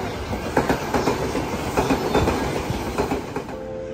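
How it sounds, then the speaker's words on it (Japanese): A passenger service train on the Chuo Line rolls past a station, rhythmic clickety-clack of wheels over rail joints and rumbling carriages, fairly loud and close, fading toward the end. "こちらは営業列車です。"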